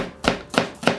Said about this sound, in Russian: соломочкой нарезаем.